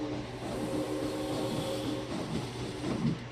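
A ride train moving along its track in the Planet Coaster theme park game, a steady low rumble with faint rhythmic clacking, continuous and moderately quiet throughout.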